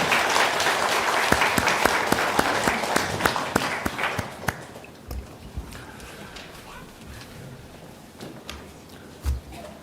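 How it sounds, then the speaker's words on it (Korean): A church congregation at a special dawn prayer service claps together in a loud burst that fades after about four seconds, followed by quieter room sounds and a few isolated knocks. "박수로 격려하겠습니다"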